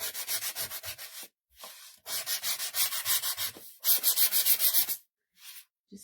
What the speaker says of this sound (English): let me get my sander here